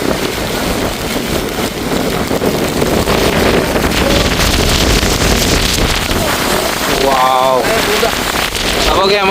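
Heavy rain and gusting wind on a red-alert stormy day at Kakkadampoyil, a dense, loud roar of rain on surfaces and wind buffeting the microphone throughout, with brief voices audible near the end.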